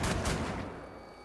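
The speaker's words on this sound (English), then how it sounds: "Damn, the shotguns are kind of baller." Two heavy shotgun blasts in the Wolfenstein video game fire in quick succession, loud and booming, then ring out into a fading tail.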